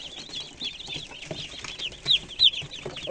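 Chicks peeping steadily in a coop, a mix of laying-hen and broiler chicks with a young laying-breed cockerel among them, the high rapid cheeps overlapping continuously with a few louder near calls.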